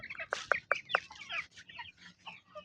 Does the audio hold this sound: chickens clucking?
yes